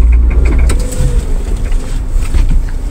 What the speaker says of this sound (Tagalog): Ayun, narinig niyo ba yung lagutok? Sunod-sunod na lagutok. Ibig sabihin, palitin na yung drive shaft nito.